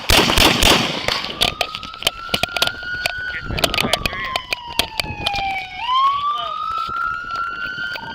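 Gunfire during a police shootout with a domestic dispute suspect: a rapid series of sharp, loud bangs over a wailing police siren that rises and falls, with shouting voices mixed in.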